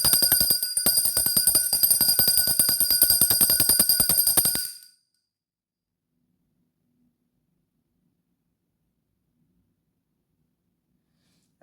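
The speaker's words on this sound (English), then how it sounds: "I'm going to ring the bell." A bell rung once and left to resonate, giving a loud, bright sustained ring with a shimmering tone that lasts about four and a half seconds before cutting to silence.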